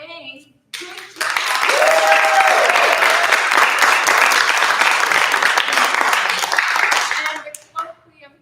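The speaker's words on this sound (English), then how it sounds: "You're so good at applauding. Get ready, you get to do it again." Theatre audience applauding at Malaspina Theatre, a loud, full burst of many hands clapping that starts suddenly after brief talk, holds steady for about six seconds, then tapers off as voices return.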